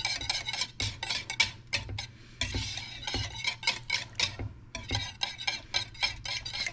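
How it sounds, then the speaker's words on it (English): Wire whisk scraping and clinking rhythmically against a bowl while a creamy chicken enchilada casserole sauce mixture is beaten until smooth, with steady repeated strokes and a low background hum. "You want to whisk it till it's nice and smooth."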